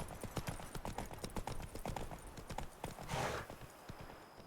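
Horse hooves clip-clopping at a fast steady gait in The Witcher 3: Wild Hunt, a rhythmic run of sharp hoof beats with a brief whoosh partway through, moderately close and without talk.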